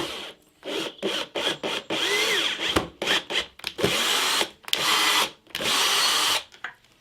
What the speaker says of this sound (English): I'm just going to screw